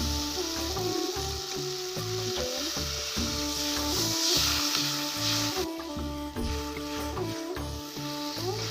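Water is poured into a frying spice paste for a thin rohu fish curry. A steady, close hiss sounds under prominent background music.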